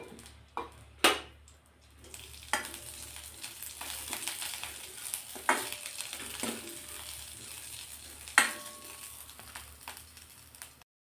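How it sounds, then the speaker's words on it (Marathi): Seven or eight fresh green chilies roasting in a little oil in a pan, a soft sizzle broken by sharp clinks and scrapes of a spoon against the pan, the loudest knocks at the start and near the end. "एक 2 मिनिटं ह्या मिरच्या आपण भाजून घेतल्या आहेत"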